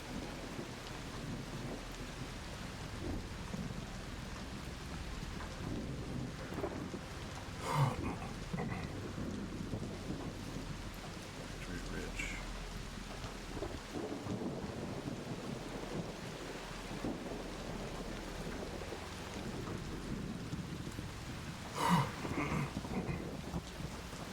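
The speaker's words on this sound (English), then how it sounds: "Beware the lightning strikes if you're outdoors." A video game thunderstorm with steady rain and rushing wind, broken by two sharp, loud lightning cracks with rumbling thunder spaced well apart, and no voices.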